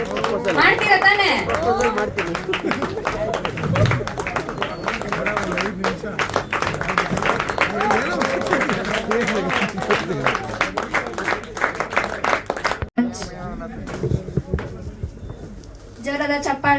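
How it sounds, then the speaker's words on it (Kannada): Loud, sustained applause and clapping from a reality-show audience, a dense continuous wash with voices and chatter mixed in, easing slightly near the end. "ಜೋರಾದ ಚಪ್ಪಾಳೆ."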